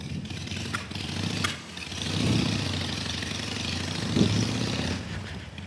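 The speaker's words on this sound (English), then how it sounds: "Man, Parker stalled her bike." Carbureted motorcycle engine sputtering and stalling on a cold day, a rough uneven low rumble that surges twice and then fades out, heard from close by without any talk over it.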